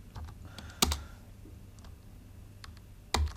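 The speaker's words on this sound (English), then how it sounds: "I'm just pretty much hitting keys at random here." Keys on a computer keyboard are struck at random, light scattered taps with a few sharper louder clacks standing out, close and quiet with no talk.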